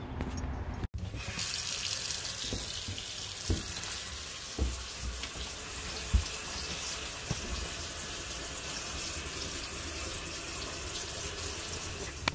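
Steady rushing water runs continuously from a leaking kitchen sink drain, with a few soft knocks and clunks scattered throughout.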